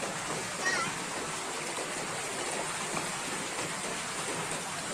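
Steady wash of river water splashing and churning as an e-trike fords a shallow river crossing, continuous and fairly close, with voices faintly mixed in.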